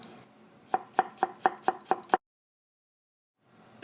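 A knife mincing garlic on a cutting board makes seven quick, evenly spaced chops close up, then stops into silence.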